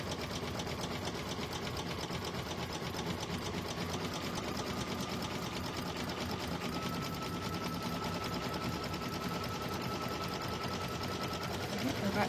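An industrial sewing machine runs fast and steady for the whole stretch, a dense rapid mechanical whir with a faint tone rising above it.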